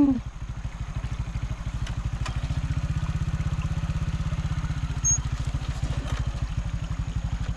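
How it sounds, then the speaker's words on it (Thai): A motorbike engine putters steadily and close by as it is ridden through water on the way to a village across the other side, its pulsing beat holding throughout with no talk. "ขี่รถลุยน้ำ"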